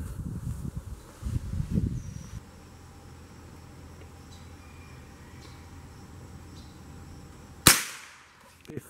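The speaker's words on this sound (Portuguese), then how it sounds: "Rifle nylon 66, Remington, .22 LR. Positivo, excelente tiro." A Remington Nylon 66 semi-automatic .22 LR rifle fires one sharp, loud crack near the end, after quiet outdoor ambience with faint insects and some rustling at the start.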